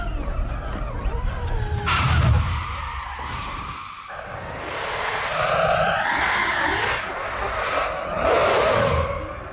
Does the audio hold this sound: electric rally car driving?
yes